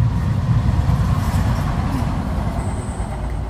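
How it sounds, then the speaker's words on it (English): Train passing on a busy urban railway line beside a camp, a steady low rumble close by that holds for a few seconds, with a faint high whine appearing near the end. "Every camping video, there's another train going past."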